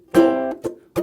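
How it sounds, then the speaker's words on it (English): Ukulele strummed once, then two short muted percussive chucks follow, close and clear with no talking. "everything in between are going to be filled with these muted strums."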